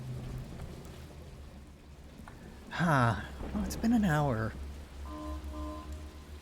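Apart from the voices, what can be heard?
rain in the video game Dishonored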